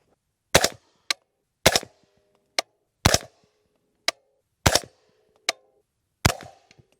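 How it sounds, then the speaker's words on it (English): Five sharp, loud rifle reports fire at a steady pace from a Q 7-inch barrel outdoors, each with a short decaying tail and a fainter crack in between. "Now let's shoot 5 rounds."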